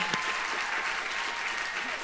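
Brief, steady clapping from an audience at a university nursing graduation ceremony, a continuous wash of applause at moderate level.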